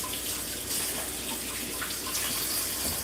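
Kitchen tap water runs in a steady close gush while cabbage is rinsed under it, with faint splashing variations throughout.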